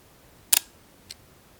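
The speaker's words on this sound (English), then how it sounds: "This is the shutter. So it's really is a central shutter," A Minox 35 GT compact camera's central leaf shutter fires with one crisp, close double click, followed about half a second later by a fainter single tick, in an otherwise quiet room.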